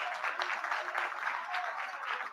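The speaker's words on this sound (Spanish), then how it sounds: "Fuerte aplauso para Soraya Sanz." Theatre audience applauding at a national theatre day commemoration, a steady moderate patter of many hands heard from a distance, without speech.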